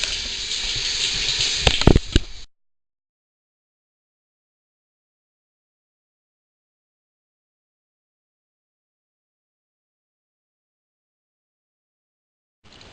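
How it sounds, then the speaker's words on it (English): Running water pours from a bathroom faucet that is not working properly for a couple of seconds, then stops abruptly, leaving long silence before a brief resumption at the end. "the faucet in this bathroom is not working properly"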